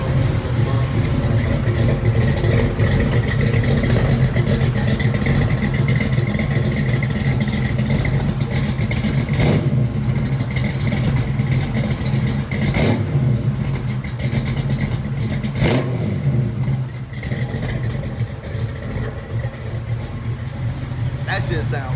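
A 1965 Mustang V8 idles with a Foxbody full exhaust fitted, a deep, steady rumble close by with a few brief blips of throttle, running continuously under a voice talking over it.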